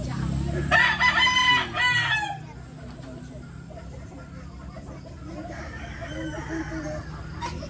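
A rooster crows loudly close by at the start, with hens clucking afterward over a steady low farmyard hum.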